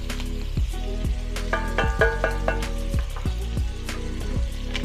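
Garlic frying in a pan after softened vegetables for chicken cacciatore, a steady loud sizzle with repeated crackles and utensil scrapes or taps against the pan throughout.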